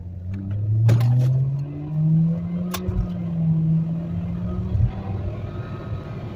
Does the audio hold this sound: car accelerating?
yes